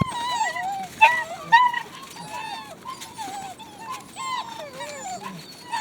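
Puppies and their mother dog outside on a very windy day, with repeated high whimpers and short yips close by in an irregular run of calls.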